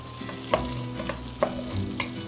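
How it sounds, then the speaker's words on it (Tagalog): Onion sautéing in a pan, with a steady sizzle broken by several sharp utensil taps and stirring scrapes against the metal. "Gisa-gisa lang muna tayo. Whoops, okay na yan. At konting sibuyas."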